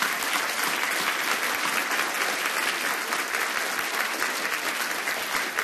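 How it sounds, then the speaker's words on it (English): At the FHS 2015 senior awards ceremony, an audience gives the graduating seniors a sustained round of applause, a thick, even wash of many hands clapping throughout. "So let's give them one more round of applause here."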